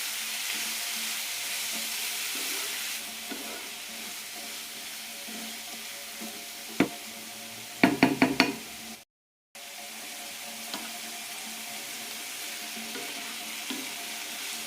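Chunks of yam fry in hot oil in a pan over high flame, a steady bright sizzle throughout, broken by a few sharp spatula taps and a brief moment of silence near the end.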